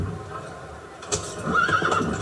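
A person imitates a horse's whinny, a shrill wavering neigh rising over noisy Assassin's Creed Unity game background, with talking beforehand.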